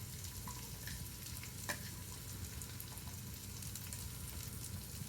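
Chopped onions and shallots fry in a pan for a frittata, a soft, steady sizzle with faint crackles and occasional light stirring, heard close but quiet throughout.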